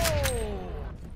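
Gunfire in the battle royale game Farlight 84, a couple of sharp close shots at the start followed by a descending tonal whine, loud over a dense game background.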